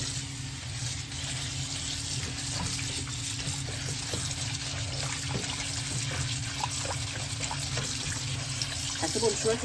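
Tap water runs steadily into a bowl of fresh parsley sprigs soaking for a minimal kitchen rinse, a continuous close trickle and splash with faint clinks, lasting throughout.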